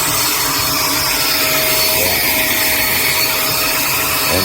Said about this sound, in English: But let's turn on the vacuum.